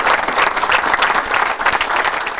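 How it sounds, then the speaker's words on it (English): An audience at a sheriff's appointment event applauds for the sheriff, a loud, close burst of enthusiastic clapping that swells and dips slightly but carries on without talk. "give him a big round of applause."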